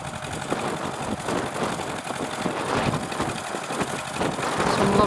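Vintage tractors working at a young farmers' field day at Holbeach Hurn, Lincolnshire, a steady chugging engine drone with a rhythmic pulse, moderately close and gradually growing louder.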